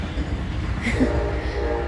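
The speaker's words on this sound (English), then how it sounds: "to hear that train" A train rumbles steadily past at a distance, a low continuous rolling drone with faint rail clatter and a brief higher tone partway through.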